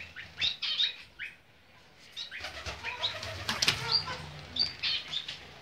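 Chinese quail in an aviary beating its wings in quick, flurried bursts while being caught, with light chirps and rustling nearby and no speech.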